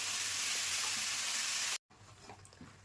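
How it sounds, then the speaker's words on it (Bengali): Spinach sautéing in a pan, a steady dense hiss of frying for most of the moment, then a sudden brief drop to silence followed by quieter sizzling with light stirring clinks. "তো এইভাবে শাকটাকে দিয়ে আরেকটুক্ষণ কষিয়ে নিলাম।"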